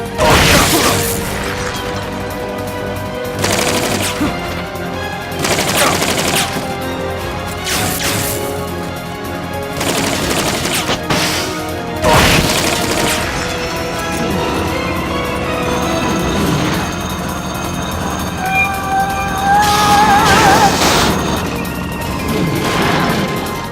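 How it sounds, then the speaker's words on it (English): Boosters firing in Metal Gear Solid Peace Walker, with repeated loud mechanical crashes, whooshes and bursts of thrust, and tonal game sounds layered between the impacts. "Firing boosters"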